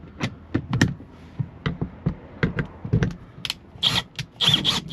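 A Tesla Model Y roof panel is being cut out, with irregular bursts of sharp clicks, crunches and scraping in quick uneven succession, close and fairly quiet, with no talking.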